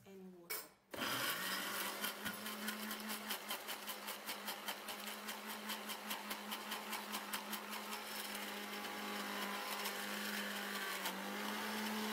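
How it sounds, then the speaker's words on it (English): A blender whirs steadily for several seconds after a brief pause, its motor droning loud and close with a faint pulsing rhythm. "I'm going to be putting it into this blender, and then I'm going to be blending it"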